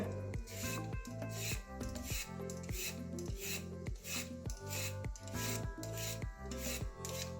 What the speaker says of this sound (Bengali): গাজরগুলো আগে ছুলে নেবো এই যে ছুলনি দিয়ে আগে ছুলে নেবো এইভাবে